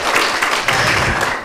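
An audience at a school class drama festival applauds the students, a dense, full wash of clapping that holds steady before easing off slightly at the end.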